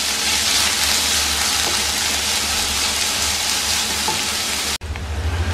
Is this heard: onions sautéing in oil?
yes